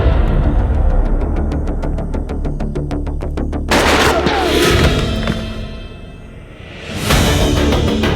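A string of sharp gunshot cracks in a scene from the Indian TV crime drama CID rings out in quick succession, followed by loud booming whooshes that swell, fade and return.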